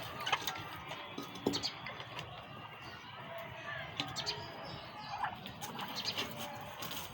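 Turkeys gobble and call in short, scattered bursts while feeding among pet birds and chickens at mealtime, fairly close, with a person talking over the flock noise.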